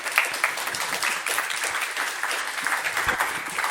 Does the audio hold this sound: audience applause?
yes